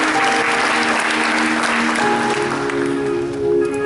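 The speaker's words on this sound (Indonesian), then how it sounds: "Tepuk tangan lagi ya." Steady, loud applause from an audience at a motivational talk in Bali fills the whole stretch, dense and continuous with a faint tonal hum beneath it.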